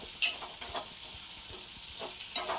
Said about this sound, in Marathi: आपल्याला हे आता हाय फ्लेमवरती आपण शिजवून घेऊ